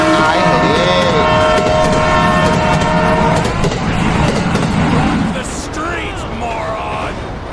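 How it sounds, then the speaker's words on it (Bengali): A train approaching in the video game GTA V rumbles loudly and steadily under chaotic game noise and shouting voices, easing slightly toward the end. "ট্রেন আসতেছে"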